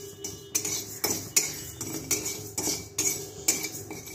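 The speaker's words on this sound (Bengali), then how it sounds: "চিনিটাকে ভালো করে নেড়েচেড়ে ক্যারামেল তৈরি করে নেব মিষ্টি দইয়ের জন্য।" Sugar is stirred in a wok to make caramel for sweet yogurt, a spatula scraping and clanking against the metal in a regular rhythm of sharp, close strikes with no talking.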